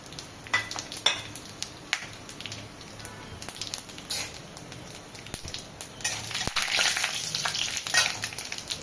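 Whole chilies, bay leaf, cloves and cumin sizzle in hot oil in a pan for a Bengali eggplant kalia, a steady crackling fry with faint stirring clicks, growing louder and busier toward the end.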